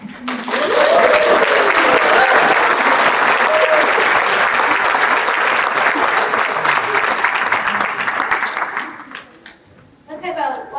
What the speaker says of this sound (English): Let's have a large round of applause for the class of 2024.